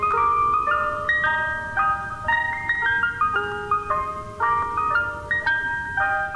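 An ice cream truck jingle on a New York street, a bright music-box melody of chiming notes repeating at a steady tempo, clear and fairly close, with no voices.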